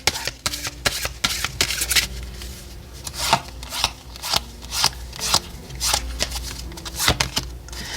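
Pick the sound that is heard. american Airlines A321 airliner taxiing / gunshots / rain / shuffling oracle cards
shuffling oracle cards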